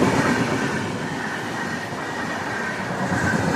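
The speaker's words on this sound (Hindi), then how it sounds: "चेन्नई से चलकर हज़रत निजामुद्दीन को जाने वाली राजधानी एक्सप्रेस हमें रचिन रोड पे ओवरटेक मारती हुई फुल हॉकिंग के साथ" The Chennai to Hazrat Nizamuddin Rajdhani Express overtakes close by, giving a loud, continuous rumble and wheel clatter that holds steady for a few seconds with no voices.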